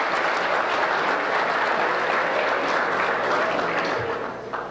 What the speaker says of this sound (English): Thank you, Congressman Mike Honda. A big round of applause.